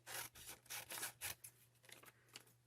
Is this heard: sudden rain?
no